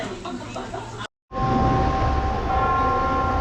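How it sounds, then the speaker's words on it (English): Clock tower bell in Mussoorie chiming at dawn, heard from right beneath the tower: after a brief cut, a sustained ringing tone rises over a steady wash of outdoor background noise. "We are right under the clock tower, and this is the chime of dawn."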